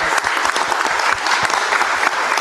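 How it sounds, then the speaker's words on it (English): Audience at a council meeting clapping for a group, a dense, continuous burst of applause from a roomful of people, fairly close and steady. "And give them a round of applause."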